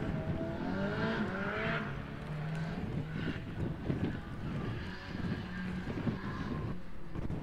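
A Nissan Qashqai turbo diesel runs a gymkhana cone course at a motor club event, its engine revving and easing at a distance beneath heavy wind buffeting on the microphone.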